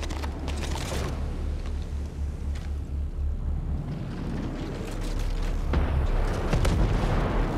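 Bombs explode in the tactical shooter game Ghost Recon Breakpoint: deep, rumbling booms roll one after another over a constant low hum, some sharp and close, others more distant.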